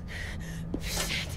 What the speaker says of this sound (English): There's a lot of heavy breathing there.